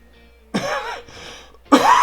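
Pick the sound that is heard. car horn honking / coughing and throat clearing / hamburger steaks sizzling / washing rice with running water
coughing and throat clearing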